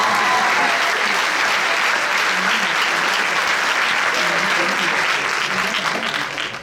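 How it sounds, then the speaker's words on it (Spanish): Dense, steady applause from an audience at a 2023 Bachillerato graduation ceremony in Spain, sustained and loud throughout before tapering slightly at the very end. "un aplauso para ella"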